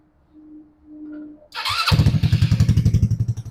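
An RPS ATV150 sport quad started with the starter button: brief quiet fumbling, then a short crank catching into a loud close idle with a fast, even chugging exhaust pulse, no talking.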